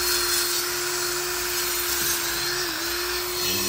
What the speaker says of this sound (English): It's just a drill and a wire wheel